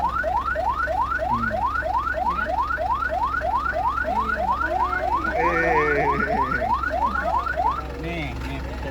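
A firefighter costume's toy alarm wails a rapid, repeating rising siren sweep for about eight seconds, loud and close, with brief voices faintly underneath.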